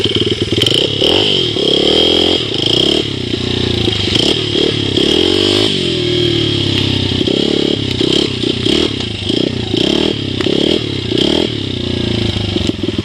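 A 2005 Honda CRF 80F dirt bike engine runs close by, repeatedly revving up and dropping back with a raspy, buzzing note over a constant idle, some rattling and scraping in between.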